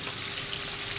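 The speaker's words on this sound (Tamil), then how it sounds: "Fish fry ready ஆகிட்டுருக்காங்க." Tilapia fish frying in hot oil at home, a steady close crackling sizzle filling the whole moment without any voices.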